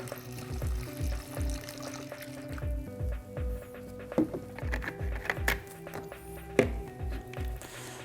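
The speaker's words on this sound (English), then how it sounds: "So I'm going to pour some into my trigger spray here." BotaniClean cleaner poured from a bottle into a trigger spray bottle that already holds some, a steady gurgling glug-glug pour in rhythmic pulses with splashy trickles, close and moderately loud.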